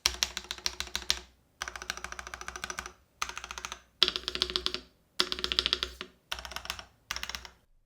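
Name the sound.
typing on Varmilo Miya Pro mechanical keyboard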